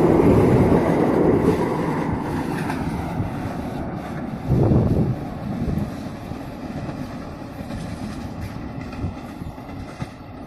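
The Argo Wilis passenger train rumbles steadily past nearby through Cimindi station in Bandung, with wheel clatter and wind buffeting the microphone, a louder surge midway before it gradually fades.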